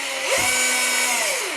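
A handheld power drill whirs up to speed and runs with a steady high whine, close by, its pitch briefly dipping and shifting as it spins.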